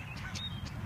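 A couple of short nasal duck quacks, somewhat faint and outdoors, spaced unevenly over a low background rumble.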